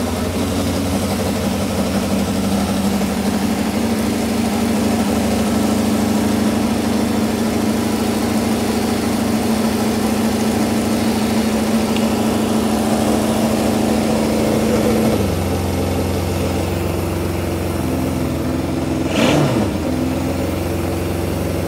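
A vintage Honda CB550 motorcycle engine with broken float bowls idles after being hand choked, a close, steady, fast mechanical thrum with a rev change near the end.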